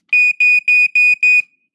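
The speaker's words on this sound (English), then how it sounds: "this is an EI ionization smoke alarm" An EI ionization smoke alarm sounds during a test with five loud, evenly spaced, piercing electronic beeps, close and alone against silence.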